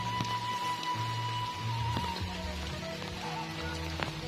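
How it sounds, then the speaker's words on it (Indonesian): Light drizzle falls on a rural village road in the rainy season, a soft, even patter with scattered faint drops and a low background hum. "gerimis ya."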